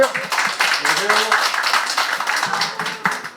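An audience at a neighbourhood redevelopment briefing applauds the district head, a dense, continuous run of many hands clapping in a hall, with voices heard among it.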